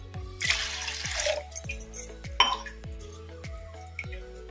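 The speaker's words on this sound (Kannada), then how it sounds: "ಈ ಥರ ಗ್ಲಾಸಿಂದ 2 ಗ್ಲಾಸ್ ನೀರು ಹಾಕೋಣ" Water poured from a glass onto washed toor dal in a pot, two bursts of splashing and gurgling with clinks and drips between them.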